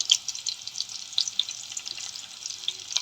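Onions, green chilies and curry leaves fry in a pan for a goat trotters curry, giving a steady, fairly soft sizzle with small crackles and pops and no talking.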